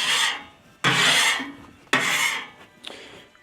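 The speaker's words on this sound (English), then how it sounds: "going to do a quick scrape while it's hot, get all that extra stuff off of there" A metal scraper drags across a hot Blackstone griddle in three long, loud rasping strokes, each fading as it goes. A light metallic clink follows at the end, up close with no talking.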